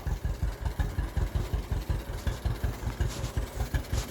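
A John Deere 7520 tractor engine idling, a close, steady low chugging with an even, rapid pulse and a light mechanical clatter on top, with no voices.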